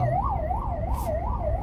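An ambulance siren wails on the road in a steady rising and falling cycle, moderately close and continuous over low traffic rumble, without any talking.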